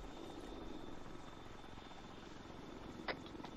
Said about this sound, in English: That helicopter's coming in.